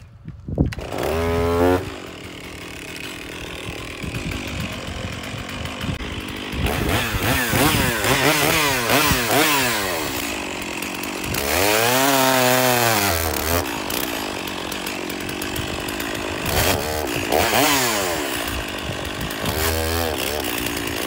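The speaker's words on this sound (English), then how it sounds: "Took about a 20 minute break, so I have to warm the saw back up again. And we sharpened the chain," A chainsaw with a freshly sharpened chain bucks firewood logs, loud and close, its engine revving up and dropping back again and again, with a rougher, strained tone as the chain bites into the wood.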